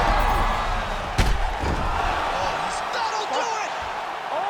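A roaring arena crowd in UFC 5 at a knockout, a dense, loud wall of cheering with a sharp thud early on and an excited commentator talking over it.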